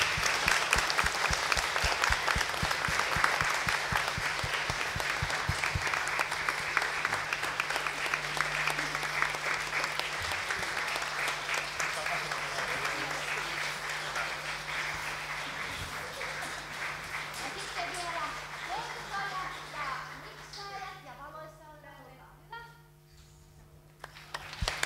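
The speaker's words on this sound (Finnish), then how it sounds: "eiköhän me anneta kiitokset meidän käsikirjoittajalle ja ohjaajalle Emmalle ihan aplodien kerran" Audience in a church congregation hall applauding after an Easter play, steady dense clapping for about twenty seconds that gradually thins out and fades, with a few voices at the end.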